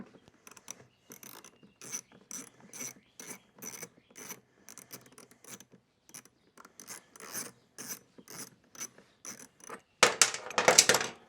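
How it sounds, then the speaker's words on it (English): A ratchet clicks in quick bursts as it works the bolts out of a Honda CRF250 fuel valve. The short rattling runs are close and fairly quiet, and a louder metallic clatter closes the stretch. "Take those two bolts out of there."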